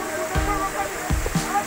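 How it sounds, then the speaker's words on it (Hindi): Hot spring water pours from a cow-mouth spout at the Takaji Mahadev temple, a steady close rush of flowing water with a few louder thumps and splashes. "यहाँ पे देखो ये गौमुख है, यहाँ से बहुत ही गर्म पानी आता है।"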